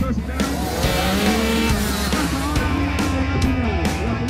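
Dirt track motorcycles race around an improvised oval on a football field, with engines roaring loud and steady as they rise and fall in pitch, and a commentator speaks over the noise.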